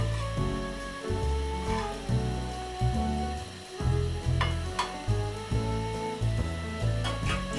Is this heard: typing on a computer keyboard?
no